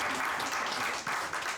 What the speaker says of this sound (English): Pia mtupigie makofi.